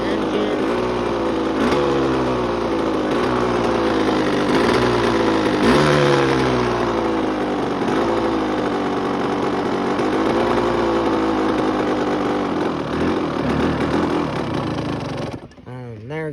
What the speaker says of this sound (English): Let it warm up, let the new oil get in the crevices of the engine.